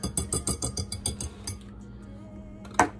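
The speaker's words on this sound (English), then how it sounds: "We're gonna continue to whisk this" A whisk clatters rapidly against the side of a bowl as eggs are beaten, about a dozen quick metallic clinks in steady rhythm, then it stops and a single sharp knock rings out near the end.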